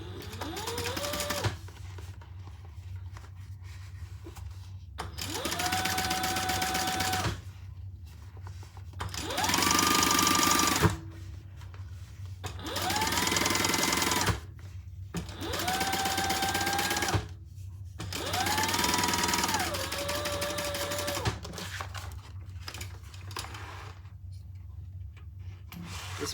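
A sewing machine top stitches a seam on a bag lining, running in five steady bursts of several seconds each with short pauses between, fairly close and clear with no talking.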